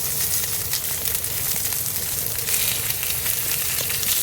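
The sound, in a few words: chicken pieces browning in frying pan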